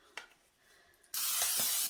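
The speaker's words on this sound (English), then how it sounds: "And we're gonna spray it." A baking dish being sprayed with cooking spray: one steady hissing spray burst close up, lasting just under a second after a few small handling taps.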